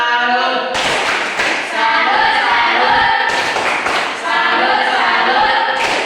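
A micro-teaching class performs the tepuk salut, loud close rhythmic group clapping in bursts with slaps and taps, voices chanting along in time.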